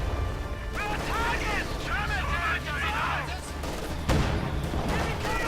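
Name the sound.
stray gunfire hitting Puma armored cars in a strategy video game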